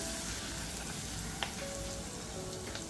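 Curry leaves frying in hot oil for khichdi, a steady close crackling sizzle throughout with faint clinks of a utensil, no talking.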